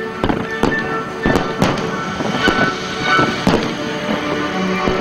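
Fireworks burst at a world fireworks festival, a rapid series of sharp cracks and booms, some close and loud, over a continuous crowd and music bed with faint voices.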